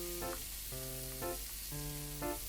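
Pork, green onion and kimchi stir-fry in oil in a pan, giving a bright, constant sizzle. Tonal musical notes repeat over the frying.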